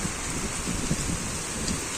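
Steady rain falls in a continuous hiss with a low rumbling undertone, holding at an even moderate level from start to end with no voices.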